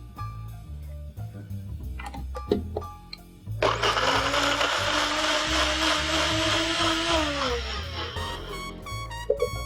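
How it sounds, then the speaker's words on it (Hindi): A few clinks and knocks, then a mixer grinder roars loudly for several seconds, blending coconut with water, whirring steadily before winding down to more small clatters. "तो हम नारियल को इसी पानी के साथ मिक्सी में चला लेंगे।"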